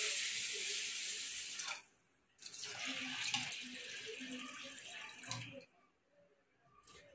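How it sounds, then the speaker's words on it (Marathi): Water is poured over washed rice and mixed dal in a bowl to soak them for appe batter. It comes as two soft splashing runs of a few seconds each, separated by quiet gaps, close by and with no talk. "आता आपण ते पाण्यात भिजत घालणार आहोत"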